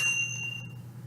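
A single bright metallic chime rings out and sustains, slowly fading over a low background hum.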